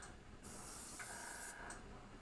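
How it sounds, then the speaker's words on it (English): Steady hissing of an aerosol spray paint can, with a brighter burst in the middle, continuous and close with no talking, as paint is sprayed onto a carved walleye beer tap handle. "just spraying it kind of just loosey-goosey all over"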